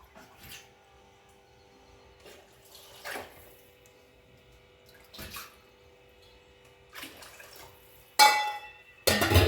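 Water poured into a thick tamarind rasam in a home kitchen, heard as two short, fairly loud splashing bursts near the end after mostly quiet moments with faint clinks.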